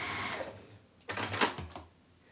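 A sewing machine stitching across a folded line in fabric, a faint whirring burst that starts after a soft rustle and runs for about a second before stopping, heard close in a quiet room.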